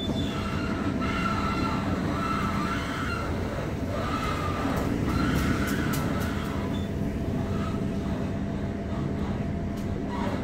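KAI Commuter train near Jatinegara station running on the rails, a steady loud rumble with wheel squeal and clatter throughout, heard from close by.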